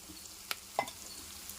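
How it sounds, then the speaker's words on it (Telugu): Long-sliced onions fry in hot tempering oil for a potato fry, giving a faint, steady sizzle with a couple of brief stirring clinks. "తాలింపులో వేసి వేపుతున్నాను."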